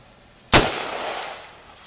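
A single loud SSAR-15 rifle shot cracks out close by, with no follow-up rounds despite a bump-fire attempt, its report decaying over about a second into faint outdoor background.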